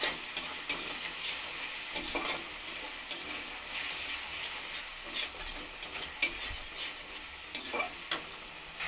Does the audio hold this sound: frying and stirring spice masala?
yes